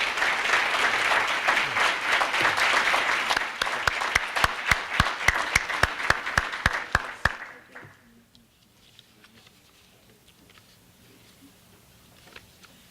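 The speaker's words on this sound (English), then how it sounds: "Let's give a warm round of applause to our 7 scholarship winners." Banquet audience at an academic achievement event applauds scholarship winners, a dense round of clapping that thins to a few distinct claps and fades out, followed by quiet room tone.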